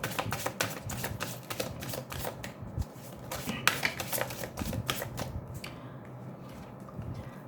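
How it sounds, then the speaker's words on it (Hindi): Tarot cards shuffled by hand in a rapid, continuous riffling and rustling, with dense crisp clicks and flutters at close range throughout, no talking. "ठीक है, मैं इसको शफल कर लेती हूँ"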